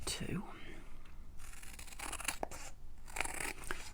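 Paper is cut in two, likely with scissors, in quiet snipping and crunching strokes during crafting. Soft whispery speech runs under the sounds.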